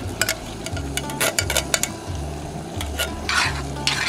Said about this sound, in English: Just spoon that in there, stir it around,